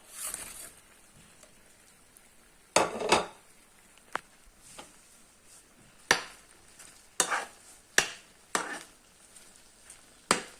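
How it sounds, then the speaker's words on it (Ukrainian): Meatballs in simmering soup being stirred in a pot, with scattered clinks and scraping strokes of a utensil against the pot over a quiet bubbling background, no talking. "перемішали, накрили кришкою"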